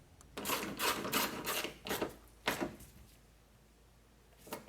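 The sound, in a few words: tightening a 10mm bolt on a Honda Odyssey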